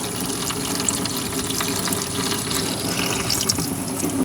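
Diesel and water gushing out while a boat engine is flushed of water and sludge, a steady close splashing flow with no talking, constant from start to finish.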